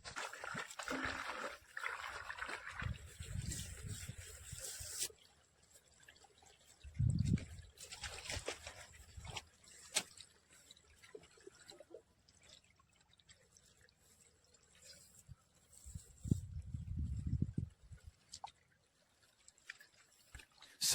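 Water from a solar-powered pump trickles and splashes into onion nursery beds outdoors, a soft uneven flow with intermittent heavier gushes and faint background noise.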